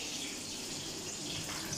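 Water pours into a pot holding washed rice and chicken, a brief, steady splashing rush close by with no talking.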